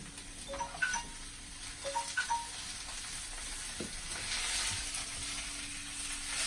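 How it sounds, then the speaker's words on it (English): Pork roast with apples stirred in a pan, a soft sizzle that swells toward the end, with a few faint clinks and scrapes of the utensil, quiet and close. "Now, what I should do is start stirring, right?"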